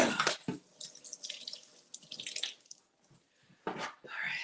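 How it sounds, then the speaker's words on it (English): An item rinsed under a running kitchen tap: intermittent splashing water bursts, near and fairly quiet, with pauses and small drips between. "let me rinse this off."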